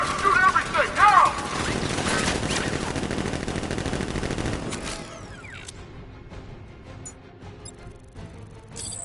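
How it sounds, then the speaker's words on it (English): Rapid automatic gunfire bursts in the Batman Arkham Knight video game, loud and dense for about five seconds, then thinning out into scattered quieter game sounds. "Open fire! Shoot everything, now!"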